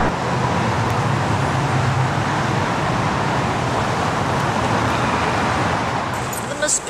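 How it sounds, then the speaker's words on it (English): Dense road traffic on a busy city street forms a constant loud roar of passing cars and buses, steady and broadband without pause. "The traffic noise is stressing me"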